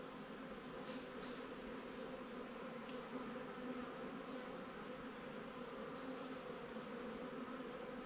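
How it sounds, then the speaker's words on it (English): Honeybees in a hive inside a storm-felled tree, a dense continuous buzzing swarm heard close and steady throughout, with a few brief louder passes of individual bees. "there's a ton of bees in here, guys"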